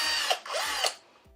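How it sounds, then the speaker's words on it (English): A power drill bores a pilot hole while an Atari 7800 console is being modified, the whining motor running in loud bursts that rise and drop with brief pauses between them. "Again, this is just a second pilot hole."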